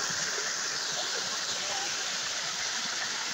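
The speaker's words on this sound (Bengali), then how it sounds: "আপনাদের এই ঝর্ণাটা না দেখালেই নয়, দেখুন কত সুন্দর লাগতেছে" A hillside waterfall on a path up a hill pours continuously, a loud, steady broadband roar of rushing and splashing water close at hand, with no voices over it.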